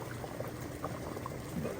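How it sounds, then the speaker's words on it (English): Pear jam boiling in a pot, a steady close bubbling and popping simmer with no talk, holding the same thick burbling texture throughout. "that boiling jam will burn you"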